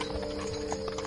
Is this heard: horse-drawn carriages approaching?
yes